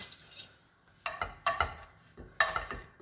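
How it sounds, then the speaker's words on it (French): A small blini pan is shaken on a stovetop, producing three short bursts of metallic clattering and scraping spaced about a second apart, close and moderately quiet. "Donc là, vous pouvez secouer le petit moule."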